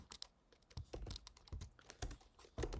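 Code being typed on a computer keyboard gives quick, close, irregular key clicks in short clusters, faint and alone with no speech.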